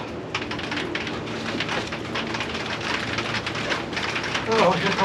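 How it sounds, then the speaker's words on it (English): Steady rain pours down in a dense hiss, with a brief burst of movement near the end. "Oh, here comes the rain."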